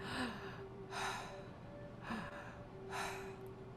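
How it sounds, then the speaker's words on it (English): Three deep, rhythmic breaths during a breathwork exercise, each a gasping inhale about a second apart, close and clear against a quiet background. "take a deep breath in"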